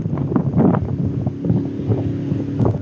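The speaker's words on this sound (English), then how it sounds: "It's really windy out here." Strong wind buffets the microphone in rough, uneven gusts of about 35 miles an hour during a hurricane in Katy, Texas, with the low engine hum of a fan boat underneath.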